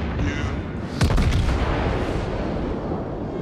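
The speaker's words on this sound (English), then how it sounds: "Shots fired. Loading secondaries." Naval guns fire in World of Warships, a sharp close boom followed by rumbling echoes over a dense, steady roar of battle noise.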